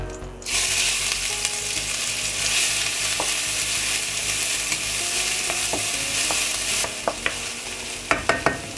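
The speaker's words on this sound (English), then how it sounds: "we're gonna saute the onion and the garlic" Onion and garlic sautéing in olive oil on a medium-high stove, a loud hiss that begins abruptly and holds steady, then eases into softer frying with several sharp utensil clinks against the pan near the end.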